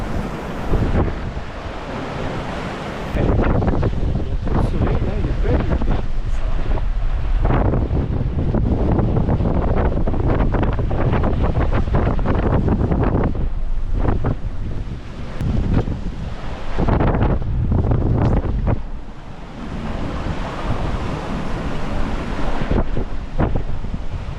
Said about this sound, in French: Les vagues sont plus hautes que la hauteur du bateau.